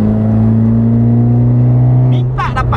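Steady droning engine note from inside a car with a 1.5 turbo engine pulling in fourth gear, a strong low hum with a rising tone, loud and close, with a person talking briefly near the end.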